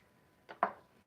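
Three quick knife chops through butter bolete mushrooms on a cutting board, crisp and close, spaced unevenly in a quiet space.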